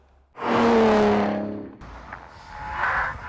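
A Lamborghini Gallardo Superleggera, a supercar good for 196 mph, roars past up close with a loud, rising engine note that fades away, leaving quieter road and engine noise.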